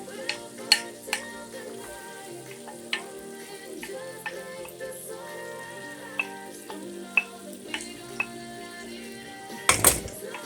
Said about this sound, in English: Garlic and the butter, slowly melt. Cook.